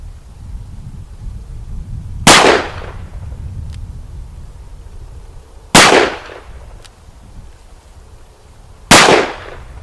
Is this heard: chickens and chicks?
no